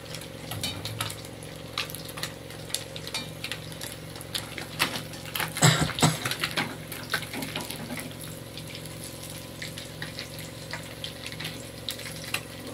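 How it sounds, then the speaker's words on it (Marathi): Fish frying in hot oil in a kadhai after being caught at a river, giving a steady close crackling sizzle throughout with a louder burst of spitting and stirring midway. "आता ही मच्छी फ्राय चाललेली आहे का"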